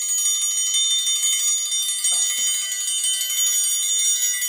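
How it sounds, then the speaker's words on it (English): One crash triangle is inserted into another for a roll, giving a bright, shimmering metallic ring that sustains steadily at moderate volume, with a few faint taps and rattles partway through. "a triangle roll usually goes like this. We gotta insert this triangle into this triangle."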